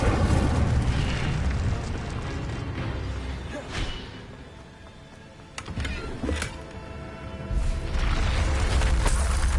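Fiery spell blasts from the Incendio fire spell in Hogwarts Legacy, a loud rumbling whoosh with booming bursts, a brief lull in the middle, then a renewed roaring surge toward the end.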